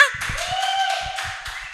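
Studio audience applause on an Indonesian talk show, a steady wash of clapping starting after a brief pause and lasting about a second and a half, moderately loud, with a bright music tone running underneath.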